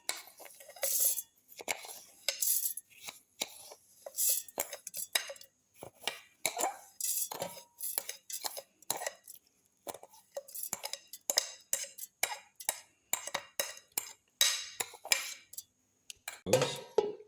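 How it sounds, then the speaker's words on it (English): Raisins and sugar dropped and spooned into a blender jar, a run of close, separate clinks, taps and scrapes of spoon on container with short quiet gaps between them. "Put in the raisins and the sugar."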